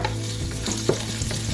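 Ginger, garlic and scallion sautéing over high heat, a loud, dense sizzle with scraping stirs and a low steady hum from the burner or hood, close, no voices.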